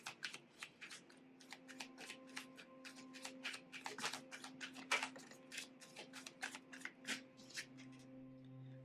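Tarot cards are shuffled and drawn by hand, a quick run of crisp riffling snaps and soft card slaps, close and quiet, with no talking.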